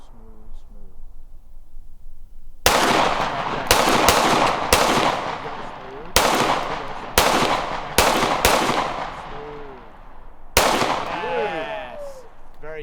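Gunshots from a handgun marksmanship consistency drill at a range ring out as sharp, loud cracks, a rapid string of about eight shots with short pauses, with faint voices before and between.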